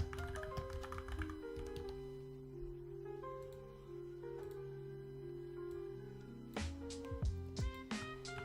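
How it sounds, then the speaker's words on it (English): A computer keyboard is typed on in quick, irregular bursts of clicks during a trading session, faint beneath a steady tonal hum and other background sounds, with a denser flurry of keystrokes near the end. "Sorry for the typing in your ear."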